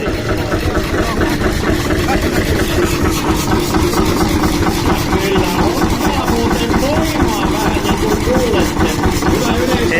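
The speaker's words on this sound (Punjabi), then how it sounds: "diesel engine" A loud, huge old diesel engine idles steadily with a rapid, knocking chug; a voice speaks faintly beneath the constant mechanical drone.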